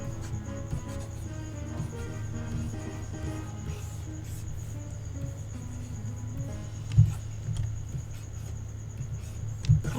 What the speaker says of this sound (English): Crickets! You are so noisy today.